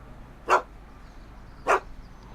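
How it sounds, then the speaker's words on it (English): A dog in the Back to the Future adventure game barks twice, about a second apart, each a short sharp woof standing out over quiet background ambience. "Why couldn't Doc have invented a dog translator?"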